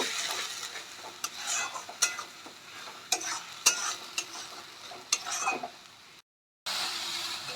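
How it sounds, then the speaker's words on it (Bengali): Salted onions fry in a pan for chicken kofta curry while a spatula stirs and scrapes in bursts, a moderate sizzle broken by clinks, with a brief silent gap near the end. "এবার আমরা পেঁয়াজটা লাল লাল করে ভেজে নেব"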